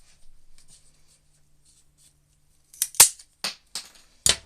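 Shears snip through dream catcher material in a handful of sharp, close cuts, a few quick crisp clicks following a faint rustle.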